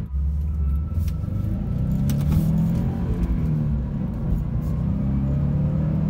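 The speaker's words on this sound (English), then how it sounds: "the way that thing whines, it almost sounds like a supercharger" A 2019 Subaru WRX STI's turbocharged engine rumbles steadily as it accelerates, with a faint high supercharger-like whine riding above the low drone, heard continuously from inside the car.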